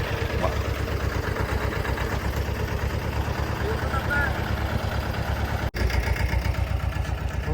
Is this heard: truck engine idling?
yes